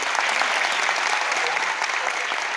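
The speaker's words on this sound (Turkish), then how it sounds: "Şimdi Antalya İl Milli Eğitim Müdürlüğü öğretmenlerinden oluşan koromuzu alkışlarınızla sahneye davet ediyorum." Steady, dense applause from a concert audience welcoming the Antalya Provincial Directorate of National Education teachers' choir onto the stage, loud and continuous throughout with no pauses.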